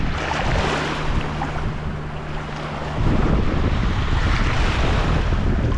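Ocean waves break and wash over a shell-strewn beach on Anclote Key, Florida, a loud, steady roar of surf mixed with gusting wind buffeting the microphone, swelling louder halfway through, with no voices.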